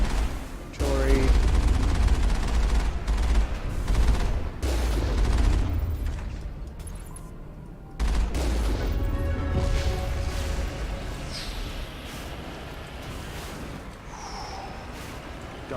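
Artillery gunfire and explosions in the video game Mass Effect: loud booming shots and crashing blasts in bursts, fading into quieter battle noise, with a voice talking over parts of it.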